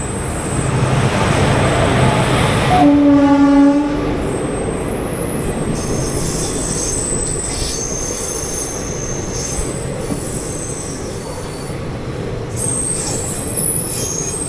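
West Coast Express train pulling into a station on an Indian railway route, with loud wheel squeal and rumbling carriages early on, then a steady rolling train noise and a high-pitched whine that continues to the end.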